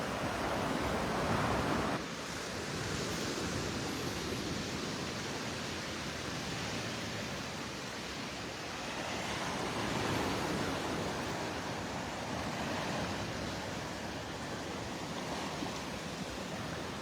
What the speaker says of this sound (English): Welcome to the beach in North Naples, Florida.